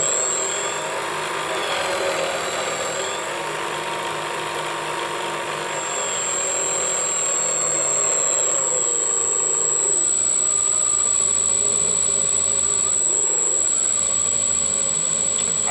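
A brushless motor spins a Sieg mini lathe at speed, giving a steady, close mechanical whine with a thin high tone that holds throughout and swells slightly toward the end.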